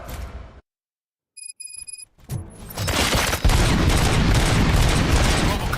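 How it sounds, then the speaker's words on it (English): In the video game RoboCop: Rogue City, after a brief silence and a few mechanical clicks, a dense burst of rapid gunfire erupts and keeps going loud and continuous, with no voices. "Gunshots? What's going on?"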